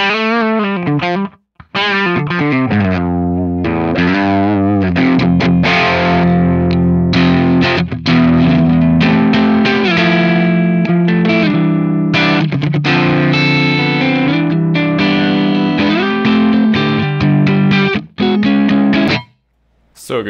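An electric guitar played through free NAM amp profiles and a free impulse response, giving loud, crunchy distorted chords and riffs that ring out continuously, with a couple of short pauses.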